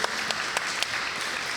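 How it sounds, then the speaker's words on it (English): A small audience at a real estate investing interview claps for Nick, the guest, with brief, steady, fairly soft applause and a few sharper individual claps. "give him a hand clap"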